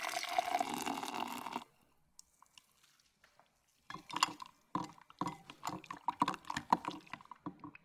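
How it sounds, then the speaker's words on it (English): Boiling water is poured and stirred into cornstarch to mix it, giving a close, wet, sloshing burst at the start, a quiet pause, then a run of clinks and splashy stirring sounds. "I'll mix this with some boiling water"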